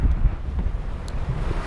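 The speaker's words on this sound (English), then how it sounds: "it's very windy" Gusty wind buffets an outdoor microphone that is covered by a folded wool glove, giving a loud, low, rumbling roar throughout.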